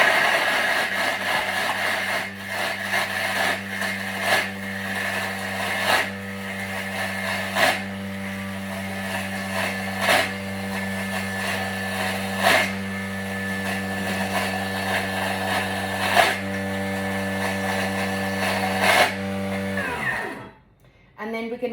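A Thermomix whirls brownie batter at speed 8, giving a loud, steady, high-pitched motor whine with a strong hum. It runs unbroken for about twenty seconds, then stops abruptly.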